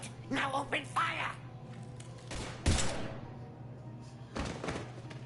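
Scattered gunfire in the video game Mass Effect 3 breaks out in a few loud, separate bursts, mixed in with a character's voice and a low steady hum.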